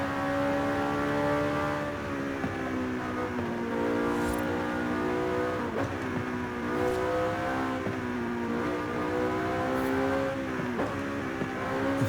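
A tuned car's engine in Forza Horizon 5 drones steadily and loud for the whole stretch, its pitch rising and falling through gear shifts as it revs, with no talking over it.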